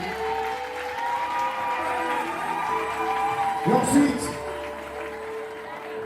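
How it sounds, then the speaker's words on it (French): Wedding guests applaud the couple at a Gabonese wedding ceremony, a steady patter of clapping under a voice addressing the room, with a brief louder swell near the end. "Applaudissez d'abord pour eux, s'il vous plaît, applaudissez d'abord pour eux."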